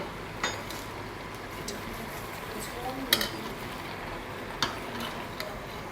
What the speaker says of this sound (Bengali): জাস্ট আমি এখন নেড়ে নেড়ে মিক্সড করাটা, কারণ আমার ভেজিটেবল অলরেডি ব্লাঞ্চ করা